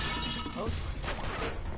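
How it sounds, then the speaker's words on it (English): Glass shatters in Uncharted 3 with a sudden bright crash and scattering tinkle, set against a dense game soundscape. "Oh dear, that's glass. That is glass."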